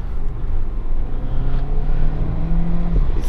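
An Audi turbo car accelerates on the road, with a steady, loud engine drone and a rising whir heard from inside the cabin.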